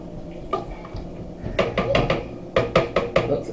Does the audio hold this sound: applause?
no